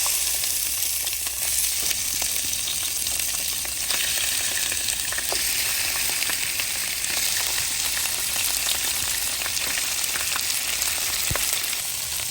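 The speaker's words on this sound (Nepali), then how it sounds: "हाम्रो तेल तातिसकेको छ र मैले यसमा मासु राख्छु पहिला।" Meat sizzles steadily in hot oil in a karai, a dense, loud, even crackle with scattered pops and small ticks running throughout, and no voices.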